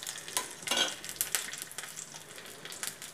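Spices crackle and spit as they are tempered in hot oil for cabbage chutney, a bright, uneven sizzle with scattered popping bursts and no voices.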